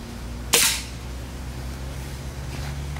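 A single sharp shot from a Benjamin Prowler .177 air rifle cracks out close by, a short bright report that fades quickly into quiet outdoor background.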